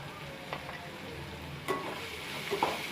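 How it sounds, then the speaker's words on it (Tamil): Tomatoes fry in a pan for egg masala over a low flame, giving a soft, steady sizzle with a few scraping stirs of a spoon against the pan, close and without talk. "நல்லா கலந்து விட்டுக்கலாம் இது லோ ஃப்ளேம்லேயே வச்சு ஒரு டூ மினிட்ஸ்க்கு நல்லா வேகட்டும்"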